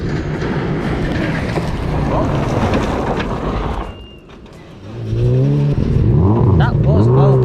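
A Subaru rally car passes on a stage: loud gravelly engine roar and wind up close, a brief lull, then rising revving tones as it pulls away, with onlookers talking over it.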